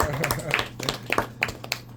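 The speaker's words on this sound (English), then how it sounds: "shall we give Manny a round of applause?" A small AP Calculus class gives a student named Manny a brief round of applause, a handful of sharp, scattered claps over about two seconds in a classroom, with some talking mixed in.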